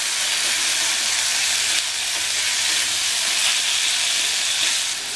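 Cut pumpkin pieces for a curry stirred in a hot frying pan, giving a loud, steady sizzle and hiss that never lets up, with faint stirring scrapes beneath it.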